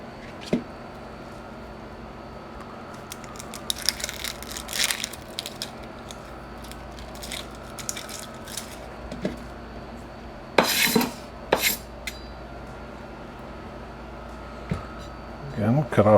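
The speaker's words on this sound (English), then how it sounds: "cut it in half and just peel it" Knife strokes through an onion on a cutting board and dry rustling as the papery skin is peeled, heard as scattered short rasps and crunches close up, mostly under steady talking.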